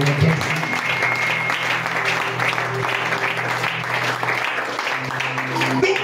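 A church congregation at a French-language sermon claps and cheers for the Lord, with steady, dense applause throughout and voices mixed in.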